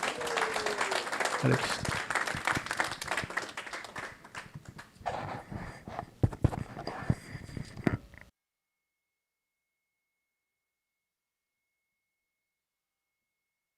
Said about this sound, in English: let's give a big round of applause with me